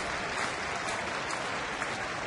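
Baseball stadium crowd of nearly thirty thousand applauding, a dense continuous patter of clapping that holds steady and fairly loud throughout.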